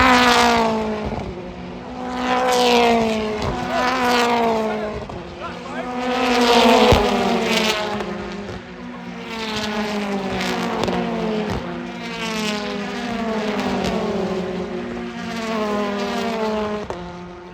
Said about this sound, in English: wonderful move that was through Grand Hill Bend for Doble to get through